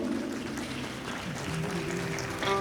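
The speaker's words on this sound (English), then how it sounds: "let's welcome them with a heartfelt round of applause" Audience clapping at a Bharatanatyam arangetram recital, a dense, steady round of applause filling the room from start to finish.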